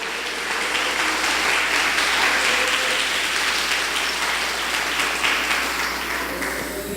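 A congregation claps during an evening church service, sustained dense hand-clapping that stays steady and loud for the whole stretch, with a low hum underneath.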